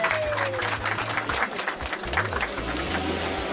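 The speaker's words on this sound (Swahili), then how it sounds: "Piga makofi." Audience applause at a gathering of elected members of parliament from Fizi, continuous crowd clapping over a steady low hum and tonal background sound, fairly loud throughout.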